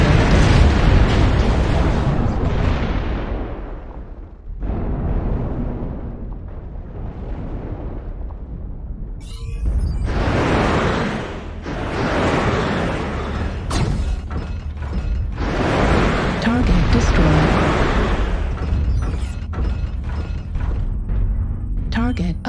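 Incoming missiles hitting a battle mech in Mechwarrior Online, producing heavy, rumbling explosions in repeated waves with crackling debris, loud throughout, with a spoken voice in the mix.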